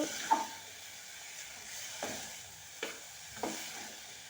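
Bitter gourd pieces fry in hot oil, a soft steady sizzle with a few sharper stirring clinks and scrapes spaced a second or so apart.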